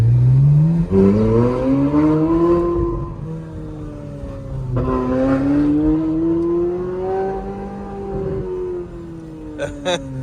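A Ferrari 458 Spyder engine revs loudly and close by, its pitch climbing through long rising sweeps, dipping, then climbing again, with a brief sharp burst at the end.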